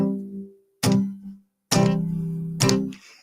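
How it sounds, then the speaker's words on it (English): Three or four right-hand palm-muted strums on a guitar, each a short choked chord that cuts off quickly, separated by brief silences, close and clear with no talking. "I call it a palm mute, where you strike the string and then mute at the same time."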